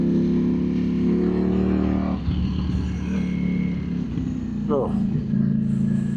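A 2025 Ducati Streetfighter motorcycle engine in 4th gear, a loud steady droning hum that drops and then rises again as it accelerates, with a rider's brief exclamation and wind rush.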